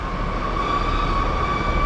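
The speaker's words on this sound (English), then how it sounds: "Right, so in comes here 17476, which is the 1325 Northern service from Scarborough" A Northern passenger train from Scarborough pulls into Hull station, a steady rolling rumble with a faint high whine from the wheels, near and continuous, no talking.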